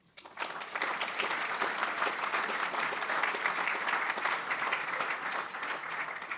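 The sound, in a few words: meeting audience applauding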